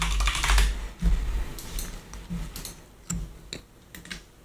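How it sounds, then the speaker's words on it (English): Typing on a computer keyboard while modeling a perfume bottle in Blender: close, irregular clicking keystrokes with a few louder key thumps, no talking. "Can I type, please?"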